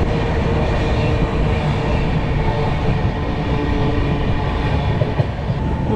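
The Pune–Solapur Intercity superfast train runs at speed with a dense, continuous rumble and rattle of wheels and carriages, loud and steady throughout, with no voices.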